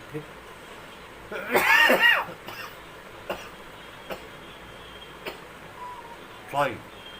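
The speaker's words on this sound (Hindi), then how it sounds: "सर्दी गर्मी की वजह से मुझे भी थोड़ी खांसी हो गई है।" A single harsh cough bursts out, followed by a few faint ticks and a second, softer cough near the end against a quiet background.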